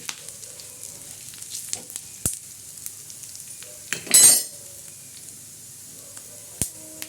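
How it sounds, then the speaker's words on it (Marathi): Bitter gourd stuffing masala roasts in a pan, a quiet steady sizzle broken by sharp spoon clicks and scrapes against the metal and one louder burst of hissing midway, heard close with no talk. "कारल्याचा मसाला हा आपण तयार करत आहोत असं हलवत राहायचं म्हणजे सर्व वस्तू अशी छान अशी भाजल्या जाते"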